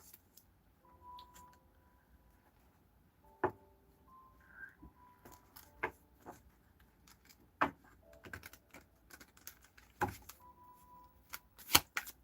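Tarot cards being shuffled in scattered soft riffles and taps, quiet and close, with sharper clicks now and then against a near-silent background.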